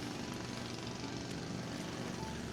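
Longboat engine motors around Phi Phi Island, a continuous droning hum from outboard engines on the water, steady and moderately distant with no talk.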